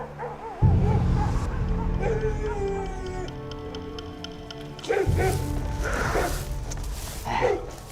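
A dog barks and yips repeatedly at close range in a palace setting, with whimpering, howl-like tones and other sounds mixed over its calls.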